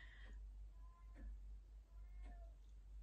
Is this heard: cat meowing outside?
yes